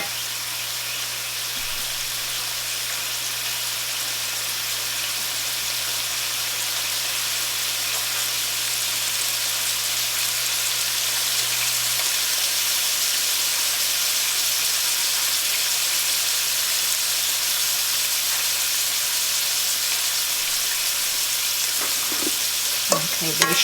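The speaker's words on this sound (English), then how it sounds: "just stirring the noodles" Shrimp lo mein noodles sizzle and fry steadily in a hot pan while being stirred, a continuous close hiss with faint scraping throughout and a few clatters near the end.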